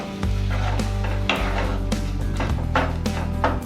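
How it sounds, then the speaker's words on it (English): Bhindi masala with tomato paste being stirred in a pan, a spoon scraping and clinking against the metal over a steady low sizzle, close and continuous. "Mix it well."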